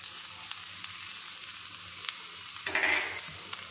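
Finely chopped garlic frying in hot oil in a pan for homemade pizza sauce, a steady soft sizzle that flares briefly louder near the end as it is stirred.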